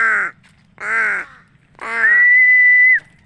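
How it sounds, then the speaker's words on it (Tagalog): Crows caw nearby: two short, harsh calls followed by a longer drawn-out call that ends in a thin, whistle-like tone, with quiet pauses between them. "Dahil mga uwak mga lods."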